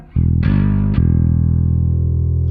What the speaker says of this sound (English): the third sound I get is with the distortion on. I can kind of get that kind of like growly rock tone.